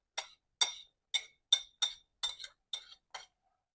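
A spoon clinking against a bowl while garam masala, coriander, chilli and salt are mixed, about nine crisp, evenly spaced metallic taps, close and isolated.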